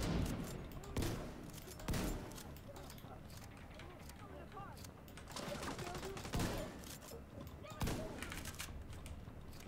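Sniper gunfire in The Division 2, a handful of sharp, well-spaced shots with bursts of background combat noise, heard under someone talking.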